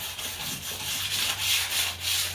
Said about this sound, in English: you want to make sure you sand it all really good